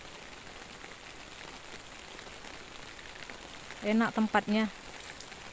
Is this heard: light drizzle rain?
yes